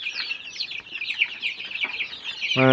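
Chickens and a rooster cluck continuously nearby, a busy overlapping chatter of short calls from several birds, ending with a louder, more sustained call at the close.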